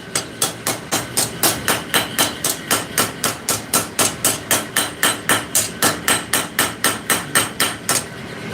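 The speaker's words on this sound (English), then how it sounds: "just planish where the jaws of that vise had bit onto the steel" A 30-year-old ball peen hammer planishing forged steel to smooth out marks left by vise jaws: a steady run of about two dozen sharp, ringing metallic blows, evenly spaced and close, with no talk.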